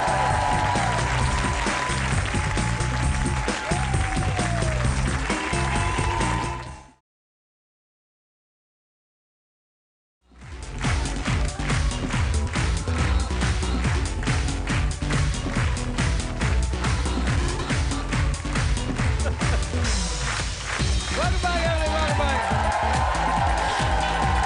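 A studio audience at a late-night talk show, The Late Late Show with Craig Ferguson, claps in long, steady applause, cut by a few seconds of silence before the clapping resumes.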